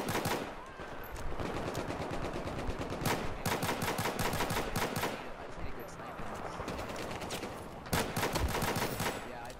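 Rapid, loud pistol fire in Battlefield 4, shots cracking in quick bursts almost continuously with brief gaps, close up, with faint talk in the background.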